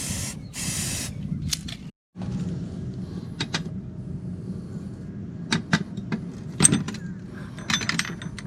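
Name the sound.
spray paint being sprayed from a can in short bursts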